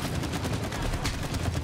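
Rapid, dense bursts of weapon fire ring out in the co-op video game It Takes Two, loud and continuous with no talking over them.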